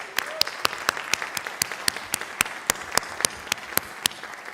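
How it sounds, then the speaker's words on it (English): Scattered audience applause at a college baccalaureate ceremony, individual sharp claps standing out in an uneven rhythm over a thin backdrop of many hands, moderately close. "That deserves an applause."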